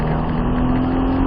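A Nissan Skyline R34 GTR engine holds a loud, close, steady drone with a strong tonal hum for just over a second, with no voices.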